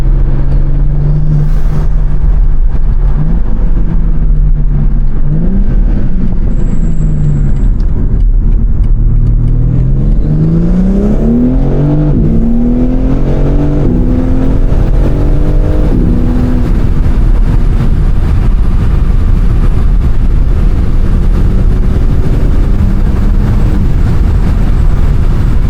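A BMW M3 Competition accelerates hard on a street, its engine note climbing and falling through several rising sweeps as it pulls through the gears, loud and sustained with continuous road roar beneath.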